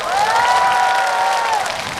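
Crowd at the 2019 Suncheon music festival applauding and cheering for a performer, a loud, dense wash of clapping with a sustained high voice-like tone over the top.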